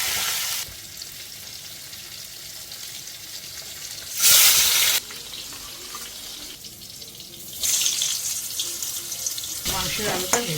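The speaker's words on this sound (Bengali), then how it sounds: "এবার ছানাটাকে একটু ধুয়ে নেব।" Tap water runs into a sink as chhena curds, made by splitting milk with vinegar and water, are rinsed, with loud bursts of rushing water between quieter stretches and some brief kitchen clatter.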